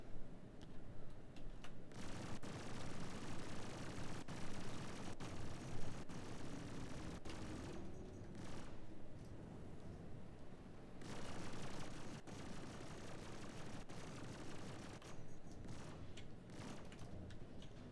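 Ballistic ship guns fire in Star Citizen, a dense, steady stream of rapid shots sustained throughout amid the din of space combat, loud and continuous with brief lulls.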